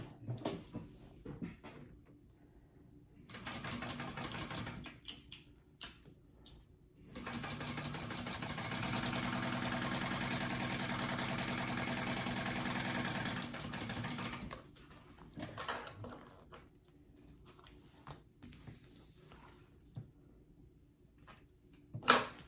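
Sewing machine stitching a 1/4 inch seam on a handbag panel, running in several bursts: short runs near the start and end around one long steady stretch in the middle, close and alone with no voices.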